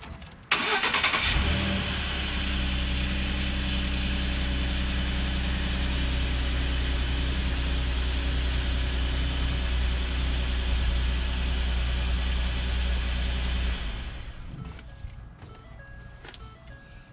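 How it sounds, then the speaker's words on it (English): A truck engine cranks and catches, then idles with a steady low hum for about twelve seconds before shutting off, during work on a suspected stuck brake caliper; faint clicks and an insect-like whine remain afterward. "I'm going to go inside the truck, I'm going to start the motor"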